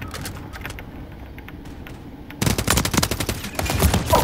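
Automatic gunfire in the shooter game Modern Warfare 3: a quieter stretch of distant shots gives way to loud, rapid bursts from about midway, continuing to the end with no talk over it.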